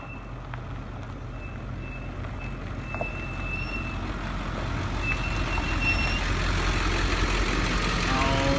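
A student bus out on the road after a brake repair, its engine rumbling low and steady as it slowly builds, with a repeated faint high beeping over the top.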